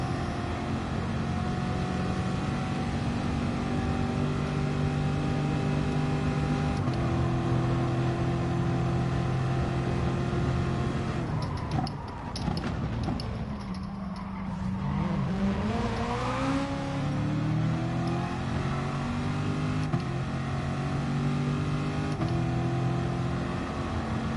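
Race car engine in the Gran Turismo Sport video game, a steady loud droning whine with a brief drop and rising pitch sweeps as it shifts down and revs back up.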